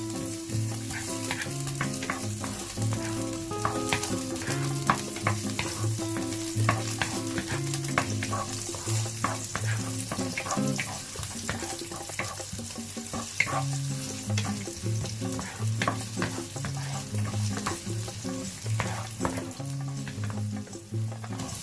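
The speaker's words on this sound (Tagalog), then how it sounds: "Una, mag-isa ng bawang." Garlic sautéing in a hot pan as the base of a sauce, a loud, steady sizzle of frying with repeated scraping and stirring clicks, no voices.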